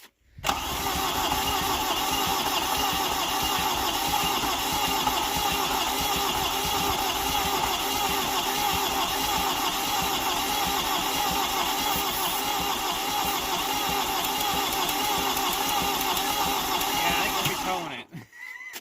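A 1986 VW Jetta turbo diesel starts and runs steadily, a loud, even clattering drone held without a break for about seventeen seconds before it cuts off abruptly.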